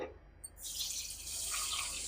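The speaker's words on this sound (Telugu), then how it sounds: "కొంచెం వాటర్ పోసుకోవాలి." Water being poured over sugar in a cooking vessel: after a quiet start, a close, steady splashing pour begins and keeps running, its tone shifting as the vessel fills.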